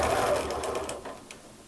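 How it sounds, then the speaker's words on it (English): A sewing machine stitches quilting fabric, a brief quick whirring run of stitches that slows and stops, fairly quiet and close with no talking. "it's like any other time that you machine quilt, you want to do your best to keep everything in line as you sew"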